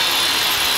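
A power saw cuts 2x2 lumber and lawanit boards at a house construction site, a loud, continuous, harsh whine filling the whole moment without speech.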